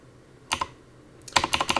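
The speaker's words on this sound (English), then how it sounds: "I've got a very noisy keyboard" A noisy computer keyboard typed on up close: a brief pair of clacks, a pause, then a rapid run of about six loud, sharp keystrokes in an even rhythm.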